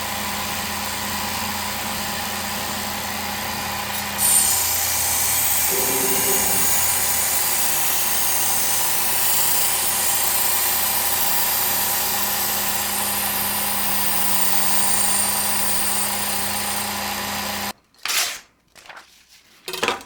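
A Work Sharp Ken Onion electric knife sharpener runs with a loud, steady motorized whine and belt hum, briefly shifting in pitch midway as a blade is drawn through, then cutting off near the end into short clattering handling sounds.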